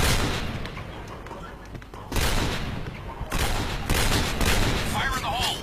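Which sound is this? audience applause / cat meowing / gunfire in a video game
gunfire in a video game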